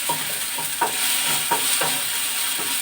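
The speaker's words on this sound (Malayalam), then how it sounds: "നമ്മുടെ പൊടികളെല്ലാം ഇട്ട് വഴറ്റി ജീരകപ്പൊടി, ഉലുവാപ്പൊടി, മഞ്ഞപ്പൊടി" Cumin, fenugreek and turmeric powders sauté in a pan under a steady sizzle, with a spoon scraping through them in regular strokes roughly every two-thirds of a second.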